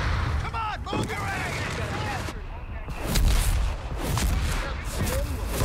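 Heavy machine gun fire rattles through a chaotic battle in Company of Heroes 3, with booming artillery-like blasts and steady gunfire layered over continuous rumbling combat noise, and shouted voices mixed in.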